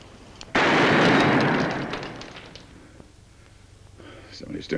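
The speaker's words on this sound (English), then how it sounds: "Somebody's doing some mighty fancy shooting out there." A single loud gunshot blast rings out outdoors, its echo decaying over a couple of seconds before another sharp report begins.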